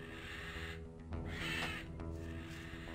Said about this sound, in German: Kann das sein, dass irgendwie so eine Harpie oder ein Vogel hier im Baum ist?